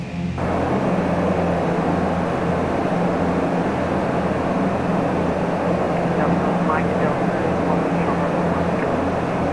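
Beechcraft Duchess twin piston engines roar at full power during a simulated takeoff roll in a flight simulator, a loud, steady, unbroken drone that holds throughout.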